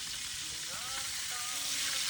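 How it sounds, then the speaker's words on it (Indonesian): Chicken breast frying in oil rendered from fat, a steady close sizzle and crackle throughout, with no voices over it. "Dia sedang memasak dada ayam goreng dari minyak"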